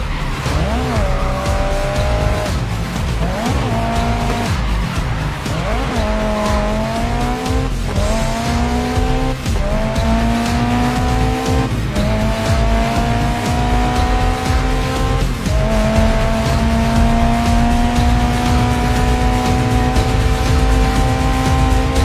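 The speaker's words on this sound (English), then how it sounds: "If you want to try a corner with a touch of handbrake, I'd like to see you control the slide" Race car in Grid Legends slides through corners on the handbrake, its engine roaring loud and continuous while tires squeal in repeated rising and falling skids throughout.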